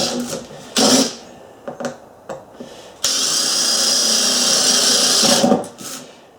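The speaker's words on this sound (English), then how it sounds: "you might find it a little easier to do the holes with another drill" A power drill fitted with a hole saw cuts into a gutter downspout: short whining bursts early on, then a sustained loud grinding run of about two and a half seconds that cuts off abruptly, followed by a brief final spurt.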